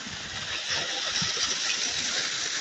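A waterfall spilling down from a hillside ridge beside a walking trail gives a steady, full rush of water. The roar stays even and fairly close throughout, with no voices.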